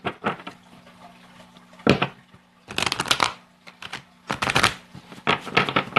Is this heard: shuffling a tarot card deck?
yes